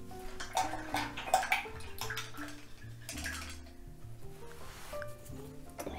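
Acrylic paintbrush swished and rinsed in a water container, producing continuous close splashing and sloshing with small knocks against the container throughout.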